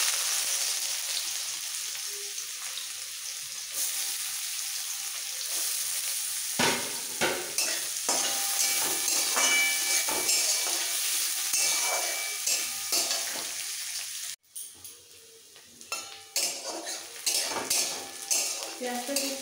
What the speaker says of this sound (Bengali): পেঁয়াজটাকে একটু ভালো করে ভেজে নিতে হবে।